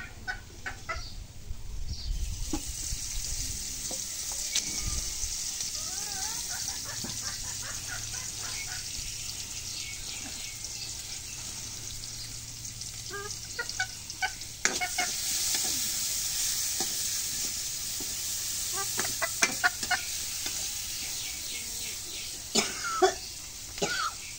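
Garlic and onion frying in oil in a pan while cooking a swarputi fish dish: a continuous sizzle with stirring scrapes, a rooster crowing faintly in the background and occasional brief knocks.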